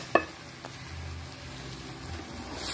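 Tacacho mixture frying in a pan: a soft, quiet sizzle that hisses steadily throughout, with one sharp clink of a utensil near the start.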